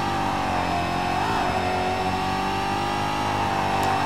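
Race car engine from DTM Race Driver 3 droning loudly and continuously at high revs, with a slight dip and rise in pitch, close and steady throughout.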